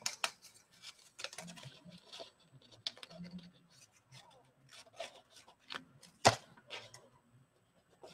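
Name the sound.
scissors cutting designer series paper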